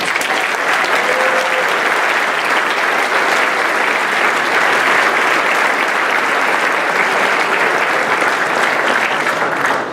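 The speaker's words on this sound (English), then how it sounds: "how about one more round of applause for all our graduates?" Dense, loud applause from a graduation audience fills the whole stretch, an even, sustained roar of many hands clapping with no break.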